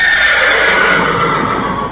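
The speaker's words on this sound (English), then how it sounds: "What a smart horse." A Thoroughbred horse whinnies loudly and close by at a horse show, a long continuous neigh filling the whole moment with no other sounds.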